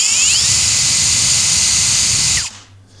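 A Bosch EXPERT EXSR18V-90FC cordless drill runs at a steady high-pitched whine, loud and even, then winds down and stops near the end.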